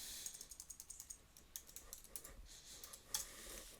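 Computer keyboard keys are pressed in a quick, even series of light clicks, close and quiet, with a sharper keystroke near the end.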